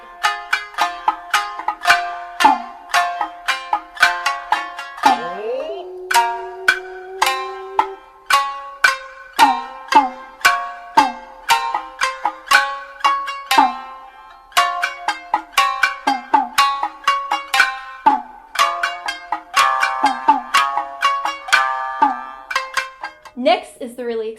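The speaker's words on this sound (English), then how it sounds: "in the duet shamisen, they're playing the same rhythm, but they're basically playing an octave apart." Two shamisen play Kokaji in kabuki style in unison rhythm an octave apart, with sharp plucked notes in quick repeated phrases, a bent sliding note near the start, loud and close with no voices.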